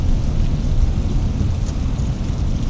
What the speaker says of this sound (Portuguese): Noite. Chuva torrencial e frio.